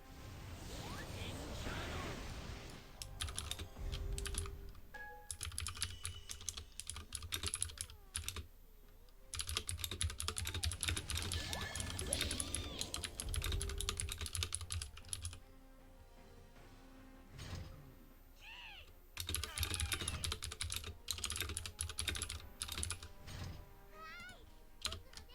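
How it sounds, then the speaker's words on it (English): Fast, clattering typing on a loud computer keyboard while writing an email, bursts of crisp keystrokes broken by short pauses, close and prominent, with some talking at times. "On my terrifyingly loud keyboard"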